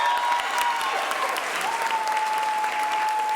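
An audience claps steadily for Virginia All-State Chorus singers at a school board meeting, a dense, even round of applause from a crowd in an indoor hall, with a faint electronic tone running underneath.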